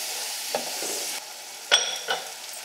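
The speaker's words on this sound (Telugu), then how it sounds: "వేసిన తర్వాత ఇలా ఒకసారి కలుపుకొని" Boiled white chickpeas being mixed into a frying masala in a pan, a bright sizzle broken by a few distinct spoon scrapes and clacks, close and fairly loud, with nobody speaking.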